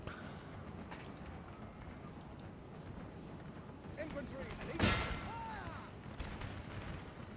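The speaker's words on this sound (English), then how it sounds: "Ripple fire coming in from the boys." Musket ripple fire volleys in Napoleon: Total War, a single burst of gunfire booming at mid-distance over steady battle ambience, with someone talking across it.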